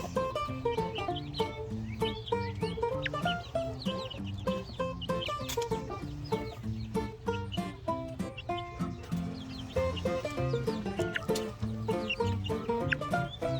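Backyard pet hens cluck steadily and busily at close range, a continuous chorus of short overlapping calls with no voices heard.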